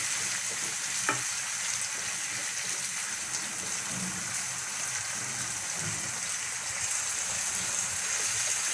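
Vegetables half-frying in a pan for vegetable pulao give off a steady, dense sizzle with a soft watery crackle, stirred now and then, close and continuous with no voices.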